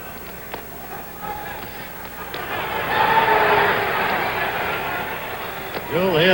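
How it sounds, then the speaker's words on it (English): Boxing arena crowd in San Diego at a heavyweight bout between Ken Norton and Muhammad Ali, a broad distant roar that swells for a few seconds as punches land, beneath a steady background murmur. "You'll hear the crowd yell virtually every time Kenny Norton throws a punch"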